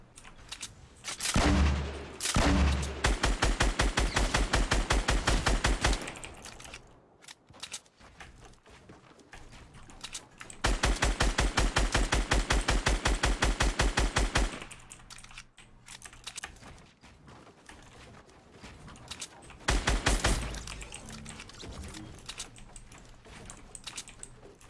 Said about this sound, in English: There's someone shooting from the gas.